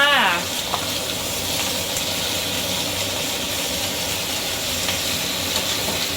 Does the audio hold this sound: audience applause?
no